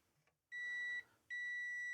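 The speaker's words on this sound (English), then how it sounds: "multimeters on continuity mode with the beep enabled" A multimeter set to continuity mode beeps as its probes test a fuse in a Commodore 64, giving two steady high tones, the first about half a second and the second longer after a short gap, clear and close.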